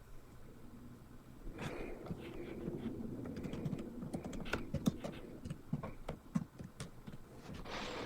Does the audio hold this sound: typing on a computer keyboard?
yes